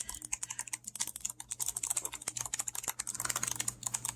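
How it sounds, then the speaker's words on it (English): Rapid clicky button presses on an 8BitDo all-button arcade controller come close and crisp in quick, uneven bursts over a faint steady hum, with no voices. "Hopefully you guys can hear those little buttons there."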